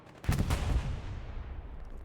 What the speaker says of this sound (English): Looks like artillery will land on that point.